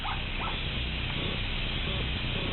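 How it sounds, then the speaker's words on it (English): A small yappy dog in a memorial park gives a few short high yips and barks, heard a little distant over a constant hiss of background noise. "a bunch of concrete discs and small pathways and a little yappy dog"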